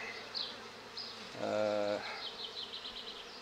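Honeybees buzzing at an opened beehive, a close, droning hum with one bee passing right by the microphone in a louder burst midway, quiet otherwise.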